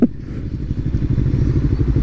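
A motorcycle engine, either a Kawasaki Ninja 300 or a Yamaha YZF-R15, drones steadily while riding through a 40 zone, a close, loud, even pulsing hum with wind rush and no talking.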